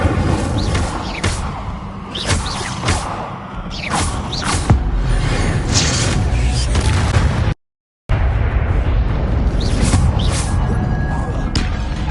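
Incendio fire spells cast in Hogwarts Legacy, a series of loud whooshing bursts and thuds over busy game noise, with a short silent gap partway through.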